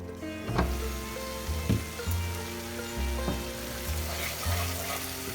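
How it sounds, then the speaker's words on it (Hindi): Masala sautéing in a covered pan over a medium flame, giving a steady close sizzle and crackle with a few soft knocks throughout. "अभी मसाला हमें 4-5 मिनट सौटे करना है मीडियम फ्लेम पे"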